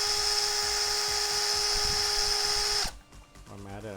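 An electric drill spins a Maytronics Dolphin pool robot impeller motor part clamped in its chuck, giving a loud, steady high-pitched whine that cuts off abruptly near the end, leaving clattering handling sounds.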